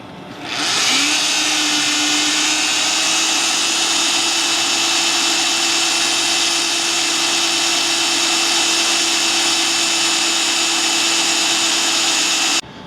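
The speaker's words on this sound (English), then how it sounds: "So I've got all of my holes drilled out to 7/16 now." Step drill bits boring holes into hardened frame rails on a 1994-2002 Dodge Ram 2500/3500 during a traction bar install, a loud, steady high-pitched whine of a power drill running continuously without a break.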